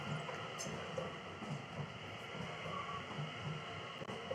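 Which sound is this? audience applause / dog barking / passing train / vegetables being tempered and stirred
passing train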